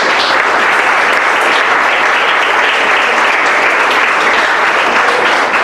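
A church congregation applauds during a sermon, a loud, dense and steady wash of clapping that holds evenly from start to finish with no voices standing out.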